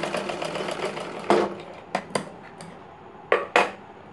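A sewing machine stitches along the folded edge of a katori blouse, a steady low whir broken by several sharp mechanical clicks and clatters, close and fairly quiet with no voices.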